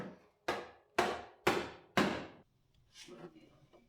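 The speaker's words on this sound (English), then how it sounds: "this guy is a woodworking chisel that has seen better days, so nowadays I just use it for any nasty little task" An old, worn woodworking chisel is hammered into a sheet-metal spot weld on a Subaru Brumby build: four loud, evenly spaced metallic strikes about half a second apart, then a quieter scraping rattle.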